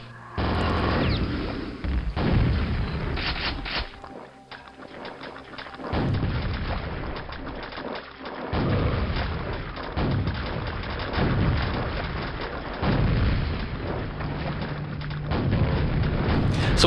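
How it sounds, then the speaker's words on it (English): Rocket launches and booming explosions in the video game Quake, single-player: repeated heavy blasts and thuds recur every couple of seconds over a dense, continuous din of combat. "It's almost like Russian roulette, firing a rocket behind you like that."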